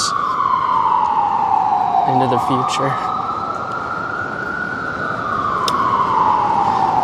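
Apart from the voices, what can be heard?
ambulance sirens on a city street at night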